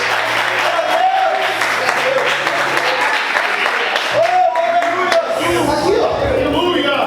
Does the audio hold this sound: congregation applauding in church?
yes